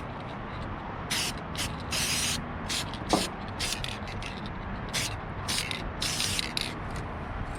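Bursts of aerosol spray paint hiss in short, repeated puffs while hood hinges from a Box Chevy Caprice are coated in a garage, each spray close and fairly loud with brief pauses between.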